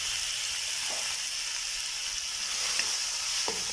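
Tomatoes and yogurt hitting a hot tikka karahi set off a steady, bright sizzle that holds throughout, with a few faint stirring scrapes and spatters close by and no voices.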